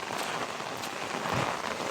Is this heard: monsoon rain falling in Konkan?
yes